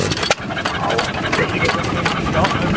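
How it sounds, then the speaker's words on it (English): A vintage engine at the Lincoln Steam Rally runs with a steady rough rumble and chatter, a brief knock near the start, mixed with outdoor background noise. "Everett, here's that engine that we missed yesterday."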